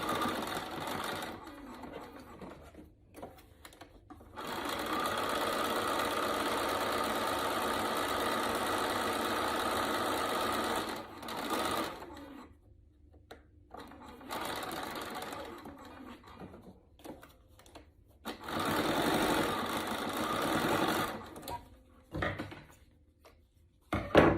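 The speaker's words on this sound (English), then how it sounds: "I'm just going to top stitch with my machine" A sewing machine runs topstitching in long, steady stretches separated by brief pauses, close and fairly loud, with quieter handling sounds in the gaps.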